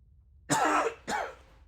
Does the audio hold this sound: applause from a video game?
no